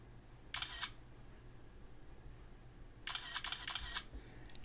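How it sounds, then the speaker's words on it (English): An iPhone 5s camera taking photos in rapid burst mode makes two quick runs of crisp shutter clicks, a short one and then a longer one, close and clear against a quiet room. "you heard how fast and rapidly it was taking photographs"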